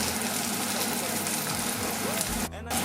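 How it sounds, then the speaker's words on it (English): Vegetables frying in a pan while a vegetarian pasta sauce cooks, with a steady, close sizzle and crackle and a brief dip near the end. "I can see now the veg is roasting and doing its thing and cooking and frying"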